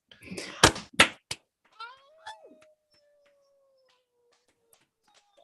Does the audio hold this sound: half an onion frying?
no